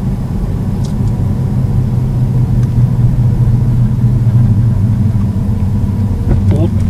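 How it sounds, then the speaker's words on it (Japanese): A car approaches on a remote, rough mountain road, a steady mid-range engine rumble heard from inside a moving vehicle, growing slightly and persisting throughout. "おっと、おっと、車が来ました。"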